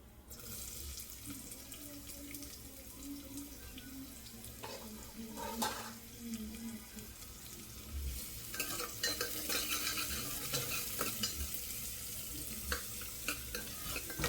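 Onion sautés with curry leaves in a spoonful of hot oil in a small pan: a quiet, close sizzle with scraping spoon strokes. Stirring grows busier and louder in the second half.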